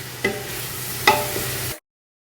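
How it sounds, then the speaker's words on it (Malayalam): Onions sautéing in a pan over a medium flame for chicken biryani, a steady close sizzle broken by two sharp scrapes of stirring before it cuts off abruptly. "ഇനി ഇതൊരു മീഡിയം ഫ്ലെയിമിൽ ഈ സവാള നന്നായിട്ട് വഴറ്റിയെടുക്കണം"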